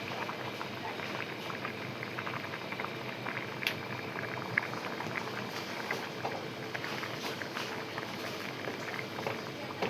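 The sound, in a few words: sprouted moth bean (matki) curry simmering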